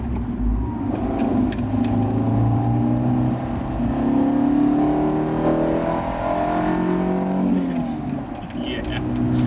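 A Fiat 500 1.4 Sport, a light 100-horsepower hatchback, accelerates hard in sport mode, its engine note rising steadily and loud throughout, with speech over the engine at times.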